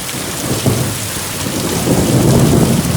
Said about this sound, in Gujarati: અને હવે તો કડાકા ને ભડાકા પણ એવો થાય છે.